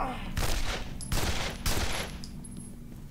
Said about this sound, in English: Can you stop shooting me, please?